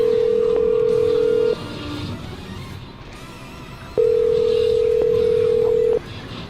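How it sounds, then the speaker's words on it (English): A landline telephone dials a number for a radio call, with a steady tone sounding loud and close in two long stretches and a quieter background hum between them. "I'm going to dial her phone number right now"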